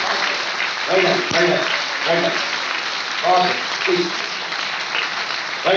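Loud, sustained applause from a crowd, with voices calling out over the clapping.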